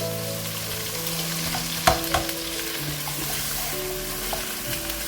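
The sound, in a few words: minced meat frying in a pan with salt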